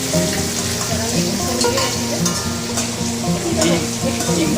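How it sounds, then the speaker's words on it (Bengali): Pointed gourd (potol) fries in hot oil in a pan beside frying hilsa fish, a loud, continuous sizzle with bubbling crackle throughout and no talk. "পটল ভাজা হচ্ছে"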